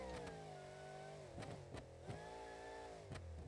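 Supercharged Hemi monster truck engine in BeamNG.Drive, fitted with a twisted-lobe supercharger and adjustable headers, holds a steady loud roar with rising and falling revs and several sharp crackles throughout.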